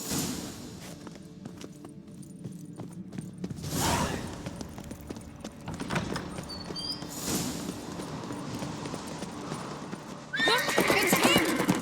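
Horses neigh and gallop in The Witcher 3 during a chase after a fleeing man, with loud whinnies breaking out over rapid hoofbeats and short bursts of voices between them.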